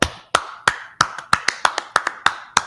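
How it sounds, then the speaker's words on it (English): Audience clapping in sharp, evenly spaced claps, about ten distinct hand-claps in a steady rhythm, close and clear with no talking. "Clap it up."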